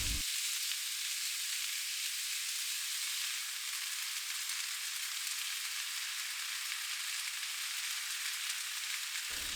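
Vegetables and ham stir-fry in melted butter for a hoppin' John dish, a continuous, even sizzle that stays soft and steady from start to finish with no voices.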